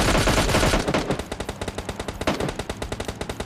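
Rapid gunfire from MK14 and DP rifles in PUBG Lite, loud and close, starting in a dense burst and then settling into a steady rhythm of quick repeated shots.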